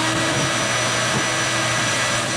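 A vacuum forming machine pulls a steady, loud broadband roar as it draws a plastic sheet down over a mold for a Smart car headlight lens, continuous without breaks.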